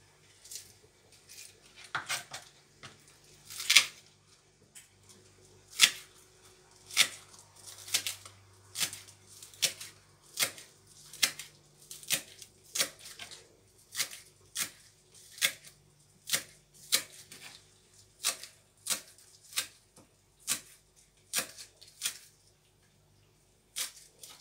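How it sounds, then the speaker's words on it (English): A knife chops dill on a cutting board in a home kitchen, making a steady series of sharp, close taps at a brisk, fairly even rhythm. They go on for about twenty seconds with no talking. "Then we'll chop the dill."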